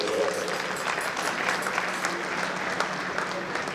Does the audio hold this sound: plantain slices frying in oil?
no